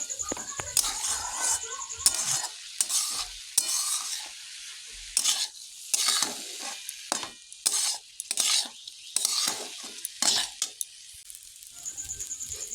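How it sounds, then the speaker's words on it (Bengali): Ginger-cumin paste and chopped tomato sizzle in a pan, with repeated stirring and scraping strokes close by, alongside a softer background hiss of frying. "আর এর মধ্যে দিয়ে দেবো একটু টমেটো কুচি, দিয়ে আবারও একটু ভালো করে মশলাটা ভেজে নেব।"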